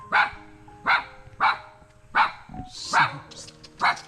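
A dog barks repeatedly at a steady rhythm, about seven sharp barks close by, with faint voices in the background.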